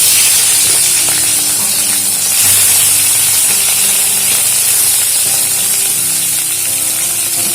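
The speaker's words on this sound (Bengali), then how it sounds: "এবারে চিংড়ি মাছগুলো ভেজে নেব।" Peeled prawns fry in mustard oil in a wok, giving a loud, steady sizzle and spitting hiss that continues throughout with no voices.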